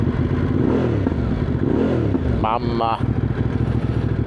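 An X-Cape 1200 motorcycle engine with a steady, loud mid-range drone while riding, wind rushing over it and a brief rising tonal sweep near the middle; a rider speaks over the engine noise.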